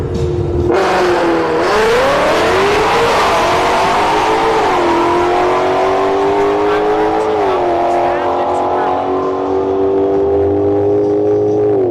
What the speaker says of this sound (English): Model S Plaid left, Shelby GT500 in the right lane.